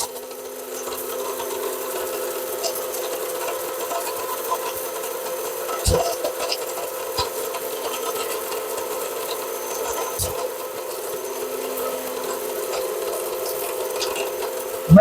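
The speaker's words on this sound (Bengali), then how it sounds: "যারা ছোট ফ্যামিলি, বাজেট কম, তার জন্য হচ্ছে 850 ওয়াটের এই ব্লেন্ডারটা।" An 850-watt Bosch blender grinding turmeric into powder, a loud, steady, high-pitched motor whine running continuously with a few brief knocks along the way.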